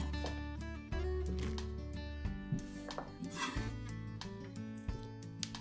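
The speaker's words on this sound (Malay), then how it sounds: "Bawang merah kecil, bawang putih, cincang kasar." Knife roughly chopping small shallots and garlic on a board, a run of irregular close knocks and scrapes under a low steady background hum, with no talking.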